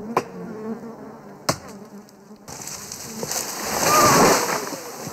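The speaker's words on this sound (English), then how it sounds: "While Alberto smokes out the hive" Bees buzz around a wild hive being smoked out by honey hunters, a loud close drone that swells toward the end after a few sharp knocks.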